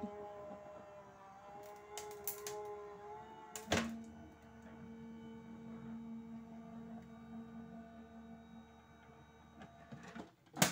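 A Sizzix Big Shot Switch Plus die-cutting machine hums and whines steadily, punctuated by a few mechanical clunks, then jams, straining and thumping harder at the end.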